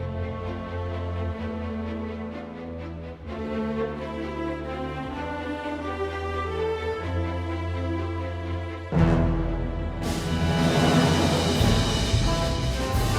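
An orchestrion roll from Final Fantasy XIV: orchestral music begins with a sustained, swelling passage, then bursts into a louder, brighter full-ensemble section with crashing cymbals near the end, and no voices.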